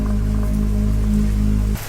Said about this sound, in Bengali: বৃষ্টি পড়ছে টিপটিপ করে আকাশে গর্জন